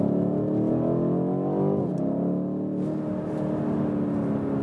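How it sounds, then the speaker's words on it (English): BMW M850i engine pulling under throttle, a loud close engine note rising in pitch, then dropping sharply at a gear shift before climbing again, heard from inside the car. "when I get on the throttle and let it go."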